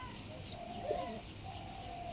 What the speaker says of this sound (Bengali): আপনারা এই কবুতরগুলো দেখছেন, এগুলো সব এনাদের বাচ্চা করিয়েছি।